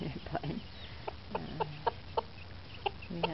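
Chickens on a farm, including a rose-combed Dorking rooster, give soft scattered clucks and short calls at a moderate distance against quiet outdoor background.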